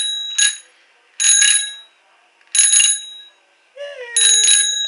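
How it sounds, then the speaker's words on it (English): Bicycle bell rung four times in short, bright bursts with silent gaps between them, close and loud, and a brief sliding tone just before the last ring. "A bell. Now everybody will hear me."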